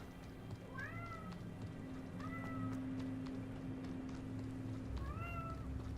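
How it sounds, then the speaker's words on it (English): A cat in the video game Hogwarts Legacy meows plaintively three times at even intervals, clear rising-falling cries over a constant low hum of game ambience, no voices. "My kitty's crying."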